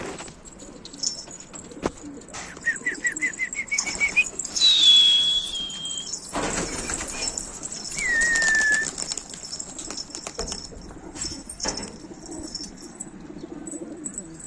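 Domestic pigeons, including black-pied and flecked birds, beat their wings in short flurries of flapping, with a few thin whistling chirps over a faint background.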